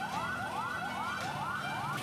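A fire engine siren in Cirebon, West Java, wailing in a rapid repeating rising sweep, loud and close, with no voices over it.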